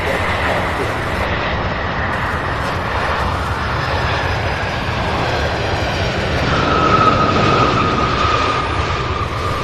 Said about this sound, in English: Oh yeah, we've got some aircraft taxiing